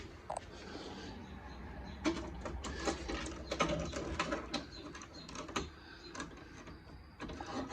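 A nut threads and tightens onto a bushing bolt while a Team Z K-member is fitted to a Foxbody Mustang, giving a close run of small metallic clicks and ratchet-like taps in irregular bursts.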